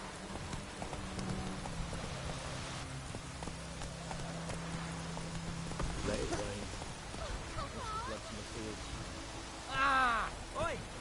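Hooves of Roach, the horse in The Witcher III, clip-clop softly under rainy game ambience, and a rider's voice speaks briefly near the end.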